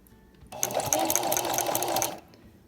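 A sewing machine stitches a pant hem in one steady, fast run of about a second and a half, close and fairly loud, starting and stopping abruptly.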